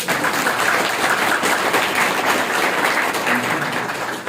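An audience at a Brahma Kumaris class in Sector-7, Karnal, applauds: dense, steady clapping from many hands that continues throughout without a break.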